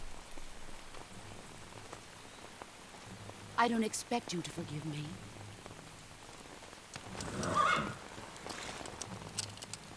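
Steady rain patters across the ground in the Metal Gear Solid 3: Snake Eater video game, a soft constant hiss beneath dialogue, with a brief louder burst partway through.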